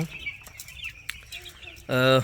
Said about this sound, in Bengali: আমরা দেখি আমাদের যে মুরগিগুলো কি অবস্থা